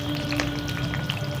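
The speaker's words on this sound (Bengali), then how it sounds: "এভাবে আগে পটলগুলোকে ভেজে রেখে দিই" Pointed gourd (potol) pieces frying in hot oil for a Bengali malai curry make a steady close sizzle with scattered small crackles and pops, over a faint steady hum.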